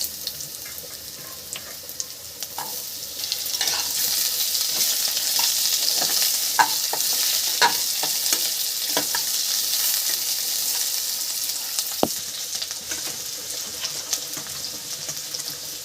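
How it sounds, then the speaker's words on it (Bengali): Potatoes fry in a pan for a Bengali cauliflower stem curry, a constant soft sizzle that swells as they go in, dotted with clinks and scrapes of stirring, close and fairly quiet with no talking. "মুড়িটা হয়ে গেছে এবার দিয়ে দিচ্ছি আলুটা"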